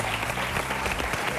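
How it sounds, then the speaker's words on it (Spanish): A studio audience on a Spanish TV show claps in a dense, even burst of applause, continuous and fairly close, with no voices over it. "Aplaudimos, aplaudimos."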